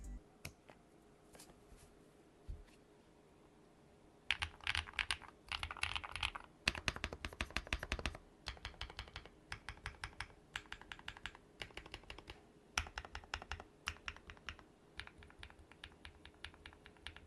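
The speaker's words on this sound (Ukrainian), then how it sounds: "сама клавіатура має доволі великий шар шумоізоляції, що дає їй повне право бути найкращою клавіатурою в своєму ціновому сегменті завдяки цьому тайпінгу" Cidoo QK61 mechanical keyboard with heavy sound dampening being typed on: soft, muted key clacks in quick irregular bursts, close up, a few isolated presses at first and then a sustained run of typing, no voices.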